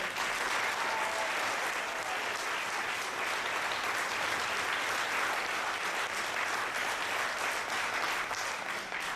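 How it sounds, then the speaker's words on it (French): An audience at a French stage show applauds steadily and loudly, a dense, unbroken wash of clapping hands that carries on for several seconds without voices above it. "Et je pense que nous pouvons l'applaudir très très très fort."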